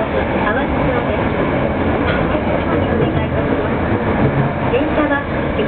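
A Tokyo Metro Marunouchi Line subway train rumbles steadily while running between Otemachi and Awajicho, heard from inside the car as a loud, constant roar, with a recorded announcement voice speaking over it.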